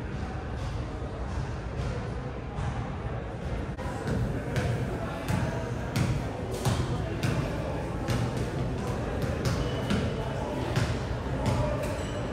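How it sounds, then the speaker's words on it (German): A basketball is dribbled on a Berlin U-Bahn platform, its repeated thumps echoing irregularly over the station's constant background rumble, with voices talking throughout. "Spielt einfach Basketball in der U-Bahn. Auf dem Bahnsteig."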